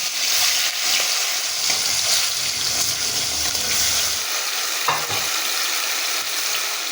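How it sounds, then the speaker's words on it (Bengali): Fish frying in hot oil in a wok, a steady, close, broadband sizzle with occasional stirring clatter and spatter, continuous throughout without talk. "তেলটা আমার গরম হয়ে গেছে, এবার আমি মাছগুলো ভেজে নেব।"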